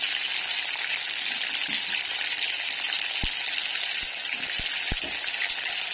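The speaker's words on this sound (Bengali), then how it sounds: "এবারে আমি দিয়ে দেবো একটু তেলের উপরে আদা বাটা" Ginger paste fries in oil, giving a continuous, even sizzle up close, with a handful of brief soft knocks near the end.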